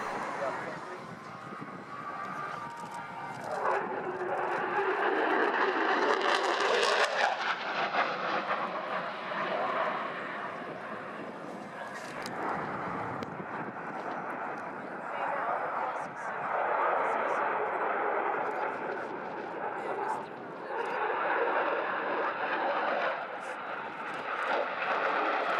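F-16 fighter jet flying a display pass at the Royal International Air Tattoo, a loud sustained jet roar that swells and fades as it passes, with narration running over it.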